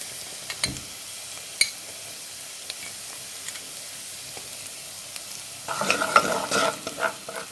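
Garlic and spices frying in a pot, with faint sizzling and scattered stirring knocks at first, then a louder burst of sizzle and scraping near the end.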